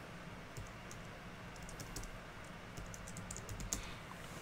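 Keys on a computer keyboard tap out a folder name in a quick, light, irregular burst of clicks, faint and close, ending with a slightly sharper keystroke, with no one speaking.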